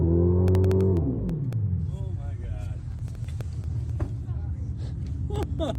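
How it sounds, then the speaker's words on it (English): A deep car engine drone rises and falls as the augmented exhaust revs in sport mode, then settles into a rumbling idle while a person talks over it. "here is the new augmented exhaust noise"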